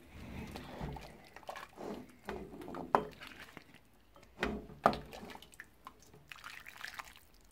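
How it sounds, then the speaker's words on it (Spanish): White pozole made with Nixcomil corn being ladled into serving bowls, with soft liquid pours, drips and splashes plus a few sharper clinks of ladle against bowl, close and fairly quiet. "comenzamos a servir el pozole"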